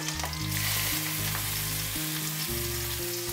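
Chopped onions sizzling and frying in hot oil with curry leaves, green chilies and asafoetida, a loud, continuous close-up crackle and hiss.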